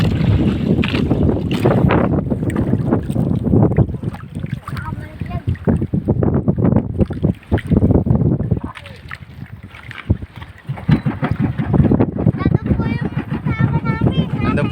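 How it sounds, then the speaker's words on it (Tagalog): A small boat carrying people home after a fish cage harvest moves across open water, with steady wind buffeting and water rushing past, while people talk loudly over the noise. "tapos na mag harvest lipat na kami sa maliit na bangka uwi na kami ni Bioskial"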